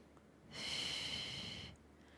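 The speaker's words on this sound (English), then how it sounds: "Last 1 time, inhale." A single deep, slow inhale through the nose during a Pilates breathing exercise, soft and close, with a quiet room before and after.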